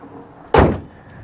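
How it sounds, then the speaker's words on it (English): A door on a 2004 Ford Excursion Limited diesel slams shut once, close and loud, with a heavy, deep thud that fades quickly into outdoor quiet. "begin to close the doors here"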